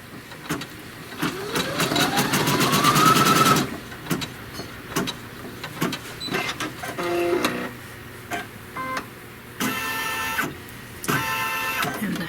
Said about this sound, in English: then it's going to stitch a trim line